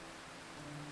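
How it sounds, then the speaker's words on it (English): Soft rain falls steadily outdoors, a faint, even hiss of drops with a low hum running beneath it. "It began to rain as I wept"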